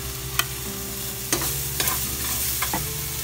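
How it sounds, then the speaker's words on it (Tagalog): Onion sautéing in hot oil, a continuous close sizzle and crackle with a few sharp scraping stirs of a utensil in the pan. "Then saka natin igisa ang bawang at sibuyas."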